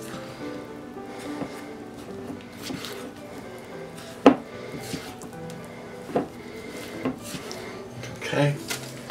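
Pineapple, flour and sugar being stirred together in a bowl for a casserole, with soft scraping, squishing and clinks of a utensil, plus one sharp knock, under quiet background noise.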